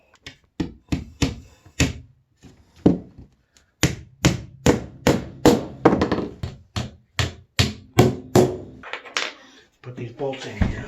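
Small nails being driven into a toilet flange with a hammer: a close series of sharp taps, some quick and bunched, then a long even run of firm blows, with a slight shuffle near the end.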